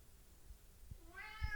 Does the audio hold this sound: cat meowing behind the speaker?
yes